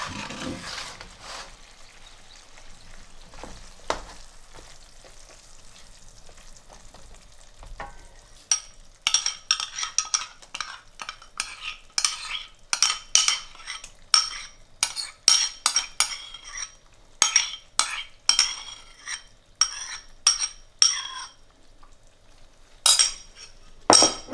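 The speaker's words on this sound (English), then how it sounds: "Let's fold it in nicely before moving the pan back to heat so that it stays good and the texture is nice." Yogurt being stirred and folded into a potato and chickpea curry in a pan, with a soft background hiss first and then repeated close clinks and scrapes of a spoon against the pan.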